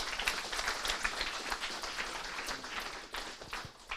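Conference audience applauding after a presentation, a dense, fairly faint patter of many hands clapping steadily for several seconds in a room.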